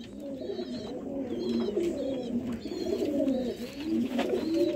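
Pigeons kept by a pigeon fancier in Sialkot coo in low, repeated throaty calls. The cooing overlaps in a steady rhythm at close range.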